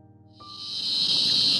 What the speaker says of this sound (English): I think cicadas in the trees are insanely loud.